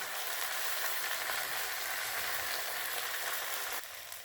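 Pork leg pot-roasting in a pot on a stove over medium heat, giving a steady, even sizzle of frying fat that holds throughout and dips slightly near the end.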